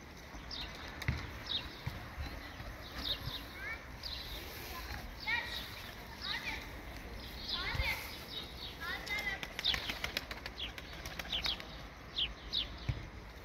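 Repeated soft wing flaps from pigeons taking off and flying, mixed with chirps and faint distant voices in an open outdoor setting.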